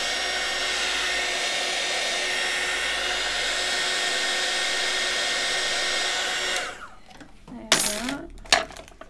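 A heat tool blows steadily over embossing powder on a card, a loud continuous airflow roar that cuts off abruptly, followed by a few light clicks and handling sounds.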